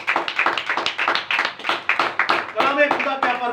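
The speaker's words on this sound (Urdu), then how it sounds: "یسوع مسیح کی ذہانت کے ایک بار زوردار تالیاں" Rhythmic hand clapping from a congregation at a Bible study fills the first few seconds, loud and close, then gives way to someone speaking.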